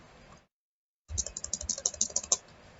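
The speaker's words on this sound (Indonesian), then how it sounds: "Kita ketikkan 1" Typing on a computer keyboard: a quick run of about a dozen close, crisp key taps over roughly a second and a half. They follow a short silent gap and sit over low room noise.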